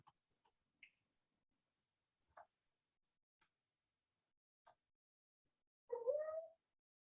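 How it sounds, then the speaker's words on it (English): A house cat gives several faint, scattered little chirps and ticks in a quiet room, then a louder, drawn-out meow at the end. "And if you hear my cat, I apologize."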